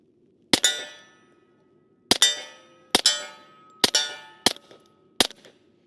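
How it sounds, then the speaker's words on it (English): Six suppressed 9mm shots from a Gemtec Lunar suppressor firing 147 grain Hush ammunition into a berm at an outdoor range. Each is a sharp, close crack with a short metallic ring, spaced irregularly roughly a second apart, and no one speaks. "let's take a few shots into the berm just so we can hear what it sounds like with that full can on it"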